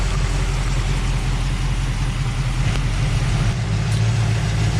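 A 1970 Dodge Challenger R/T with a 440 Six Pack V8 idling up close, a loud, steady low rumble with a slight lope and no voices.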